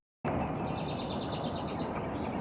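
A flock of small birds chirps around a boat outdoors, a rapid run of high, repeated tweets over a constant breezy background, moderately close and steady after a sudden start.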